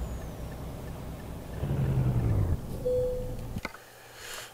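Volvo F10 Globetrotter truck engine in Euro Truck Simulator 2, a steady low rumble that swells louder midway, with a brief higher tone and a sharp hiss near the end before it drops quieter.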